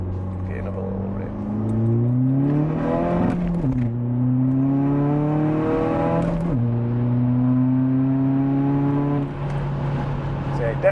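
A tuned Audi A3 2.0 TDI BKD diesel with a six-speed 02Q gearbox, single-mass flywheel and Quaife diff revs up loudly and steadily, its pitch rising and falling in a few long sweeps.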